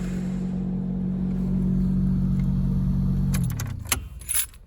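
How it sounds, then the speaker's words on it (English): A Toyota MK3 Supra that has sat unused for three weeks, with its engine running at a steady low idle, then cutting off, followed by a few sharp metallic clinks and jangles close by. "Let's see what she sounds like when I turn it over."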